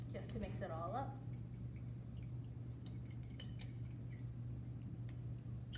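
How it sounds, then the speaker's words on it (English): A fork stirring a water and starch slurry, light scraping clinks and taps against the bowl, faint and intermittent, with a voice talking over it at the start and a low steady hum underneath. "I have here with me a fork just to mix it all up."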